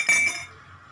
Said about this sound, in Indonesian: Pertama kita masukkan sendok pertama ke dalam gelas yang pertama